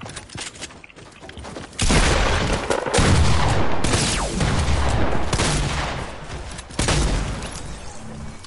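Heavy shotgun fire in the video game Fortnite, with loud close blasts and crashing impacts that break into a sustained burst of heavy noise after a quieter start, and no talking.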